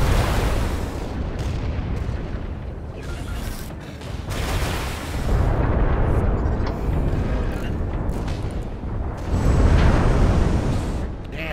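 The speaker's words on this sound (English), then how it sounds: "Cannon fire from the southwest." Heavy cannon fire in the mech combat video game Vox Machinae: a dense, rumbling barrage of booms and blasts that swells and recedes, with louder volleys near the end.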